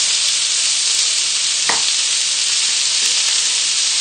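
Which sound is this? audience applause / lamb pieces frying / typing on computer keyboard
lamb pieces frying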